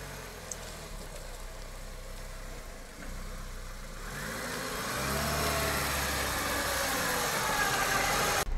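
Off-road vehicle on Matador MP72 Izzarda A/T2 tires crawling through mud in low first gear, the engine droning steadily and then building louder as it pushes on, no talk over it.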